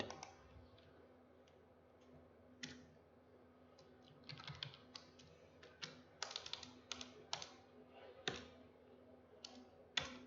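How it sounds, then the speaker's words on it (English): Typing on a computer keyboard to enter an answer in a document, a quiet run of irregular close key clicks that speeds into denser bursts toward the middle and end, with no talk. "And then I will type the answer, that is this one."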